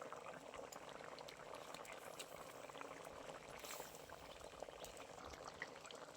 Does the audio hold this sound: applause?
no